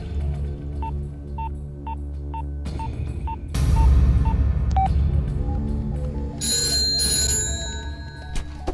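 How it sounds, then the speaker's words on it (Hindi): A telephone rings in short repeated electronic trills, with a low hum and background clatter continuing underneath. "घंटी बज रही है, कोई फोन नहीं उठा रहा है"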